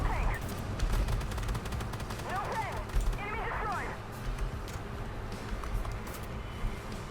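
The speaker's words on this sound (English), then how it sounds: "It's that auto cannon though." Rapid bursts of heavy autocannon fire rattle in quick succession through the sounds of the tank game Armored Warfare, with a voice chatting over the action.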